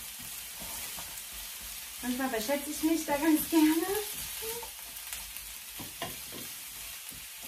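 Sliced mushrooms sizzling and frying in a hot pan for a keto dish, a crackling sizzle throughout with stirring, while a German-speaking person talks over it.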